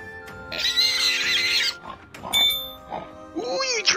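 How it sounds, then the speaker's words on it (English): A pig oinks and grunts in the DragonHill VR video game: a few loud, close squealing grunts in quick bursts with brief pauses, alongside game chimes. "Don't run away from me, Mr. Piggy."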